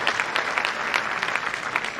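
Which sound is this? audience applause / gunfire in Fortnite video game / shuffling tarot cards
audience applause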